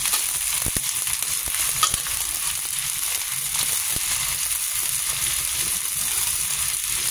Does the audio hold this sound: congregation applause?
no